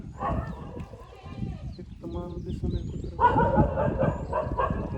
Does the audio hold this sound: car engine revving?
no